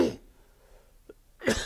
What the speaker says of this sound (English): you'll see hear all my coughs.